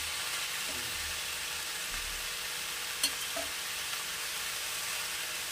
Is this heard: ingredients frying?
yes